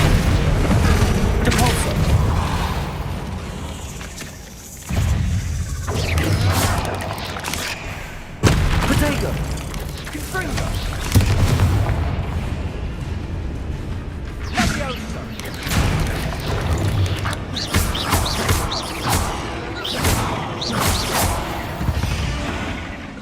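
Depulso spell impacts in Hogwarts Legacy, heavy booms and crashing thuds among whooshes and dense game effects, with a voice speaking over the action throughout.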